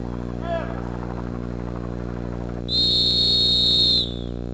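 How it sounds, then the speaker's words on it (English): A search and rescue searcher sounds a single sustained shrill whistle blast out in the terrain, lasting over a second, over a constant engine-like hum and a short voice earlier. "stopping to sound whistles every 2 minutes"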